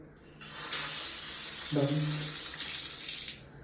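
Water gushes from a shower tap in a small home bathroom, a steady hissing stream that starts abruptly and runs loud for a few seconds before cutting off, with a brief spoken word over it.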